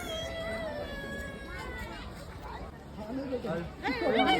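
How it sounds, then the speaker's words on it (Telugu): A jungle cat at a zoo gives a few drawn-out, wavering yowls while people chatter nearby. "ఇది అడవి పిల్లి అంట"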